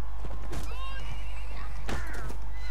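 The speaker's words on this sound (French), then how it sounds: "Mon cheval a bien morflé aussi" A horse in the Mount and Blade Warband video game neighs loudly and close, with two whinnies over a steady low battle rumble and scattered hoof clatter.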